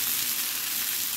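Onions fry in a pan alongside salmon, a brief, even, hissing sizzle with no stirring or other sounds.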